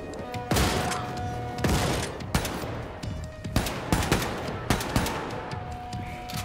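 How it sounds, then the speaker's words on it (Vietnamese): Dual-wielded guns fire in Wolfenstein 2, a run of loud, sharp gunshots in irregular bursts with ringing tails, some shots crashing close together over a faint game background hum. "Rồi tới hai tay hai súng anh em ạ."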